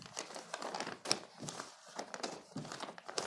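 Sheets of paper from a PC-build paperwork pile crinkle and rustle close by in a steady run of crisp bursts, with no talking.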